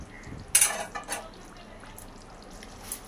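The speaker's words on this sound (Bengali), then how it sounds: "একটু নাড়াচাড়া করে ঢাকনা দিয়ে ঢাকিয়ে" A pot of chicken curry stirred and a metal lid clanked onto it: a sharp clatter, a couple of lighter knocks, then a quiet simmer with faint sizzling.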